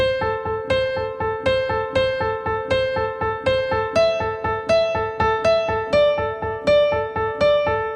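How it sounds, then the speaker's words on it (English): A piano plays a quick, bouncy repeating melody, with steady rapid notes and low bass notes pulsing under it, clear and close. "Then speed it up so it sounds something like this."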